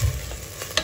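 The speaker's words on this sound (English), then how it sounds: "Give it a stir." A spoon stirs broccoli and green bean soup with stock, black pepper, nutmeg, cayenne and herbs in a pot, a short soft scrape with a faint sizzle underneath and one brief louder clink near the end.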